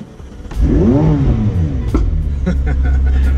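A McLaren 720S engine fires up with a loud start, revving sharply upward then settling into a throaty, rumbling idle close by.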